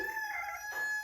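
A rooster at a farm field crows briefly in a short, faint snatch of its call, heard alone at a distance.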